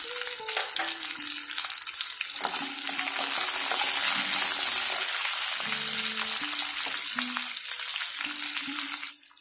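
Ginger and garlic sizzle in hot oil with onions and curry leaves for a fish curry, a continuous crackling fry with the scrape and clink of stirring throughout, close and steady, with no talk.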